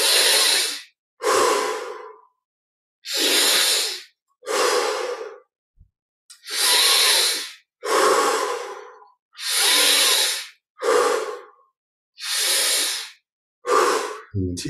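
Deep, slow breaths during guided meditation, about a dozen long, airy inhales and exhales in a steady rhythm, close and clear with short silent gaps between them.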